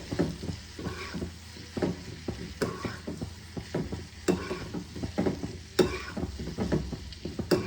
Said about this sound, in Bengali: ভাজা প্রায় হয়ে এসেছে।